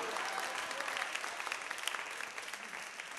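Church congregation clapping in praise of Jesus during a bilingual Indonesian and Chinese service, a dense continuous applause heard fairly quietly and evenly throughout, with no voices over it.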